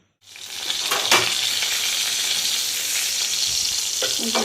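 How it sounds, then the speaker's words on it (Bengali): Pointed gourd fries in a pan in a village kitchen, where a loud, steady sizzle with crackling starts suddenly after a moment of silence and continues without pause. "পটল ভাজি চলছে"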